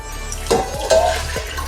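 Water pours into a cooking pot holding four kinds of lentils and peanuts, a loud splashy gush that surges twice in quick succession, with no voices over it.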